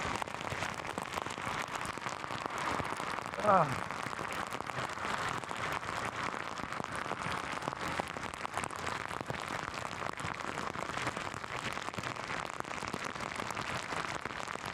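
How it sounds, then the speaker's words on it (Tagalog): Heavy rain pouring down during a drive over a bridge, a constant loud hiss of drops on the surface with no talk, one brief louder knock partway through. "Dahil sa lakas ng ulan, wala ka na makikita."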